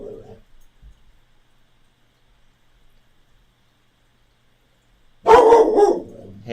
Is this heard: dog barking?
yes